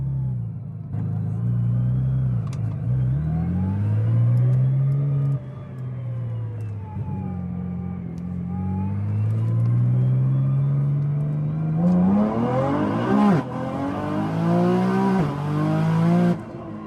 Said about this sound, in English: First and second gear were very subtle there, and then third gear the torque really comes on.